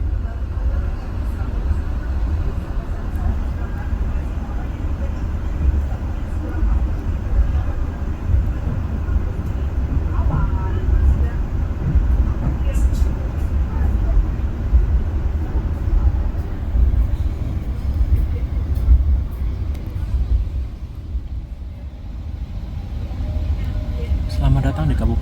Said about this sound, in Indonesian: Kereta api Gajayana masuk stasiun Kepanjen pukul 6:36.